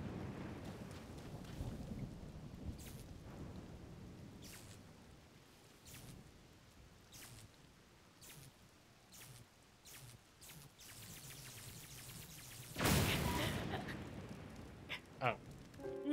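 Thunder rumbles and lightning strikes during a rainy storm in Zelda: Tears of the Kingdom. Low rolling rumble and rain run underneath, broken by scattered crackles and a loud, sharp strike near the end.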